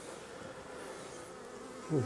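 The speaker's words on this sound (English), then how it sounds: "More bees, sealed brood" Honeybees hum steadily around an open hive during a farm inspection, a continuous close buzz with a louder swell near the end.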